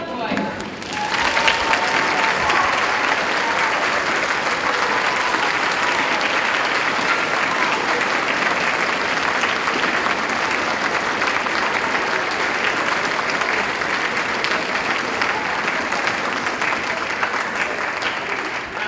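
Audience at a school orchestra spring concert applauds scholarship recipients, with loud, dense clapping that starts after a brief spoken moment and continues steadily at full strength until it fades slightly at the end.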